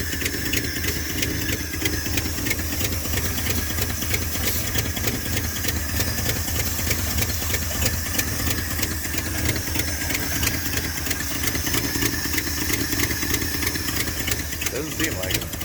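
A 1978 step side pickup truck idles roughly with a miss, its engine chugging in a steady uneven rhythm up close throughout, while people talk over it.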